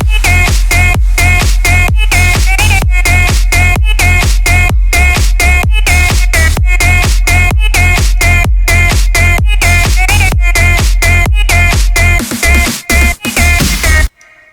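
Melbourne bounce vocal-style lead synth made in FL Studio, a bright pitched melodic line riding a steady four-on-the-floor kick and drum groove, loud and continuous before cutting out briefly near the end.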